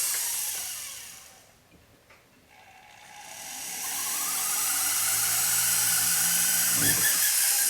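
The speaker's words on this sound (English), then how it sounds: "guess this drill bit's getting a little bit dull" A dull drill bit grinding into metal with a high, whining hiss that dips for a moment, then returns strong and steady.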